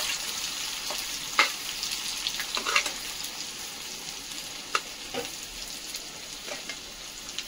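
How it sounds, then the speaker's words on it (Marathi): Chopped onion fries in hot oil in a pan for a ridge gourd curry, a constant crackling sizzle broken by occasional sharp clicks and scrapes as it is stirred, with no talking. "मस्त कांदा तळून घ्यायचा आपल्याला"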